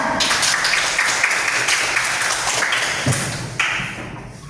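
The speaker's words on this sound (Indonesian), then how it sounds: "Ya, kasih aplaus untuk temannya." Classroom applause for a student's answer, a dense steady clatter of many hands clapping close by for several seconds, fading slightly near the end.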